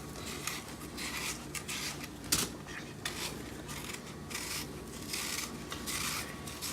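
Golden Delicious apples being peeled by hand with a small knife in a home kitchen, soft close scraping and rubbing strokes in an irregular rhythm, with one sharper click of the blade.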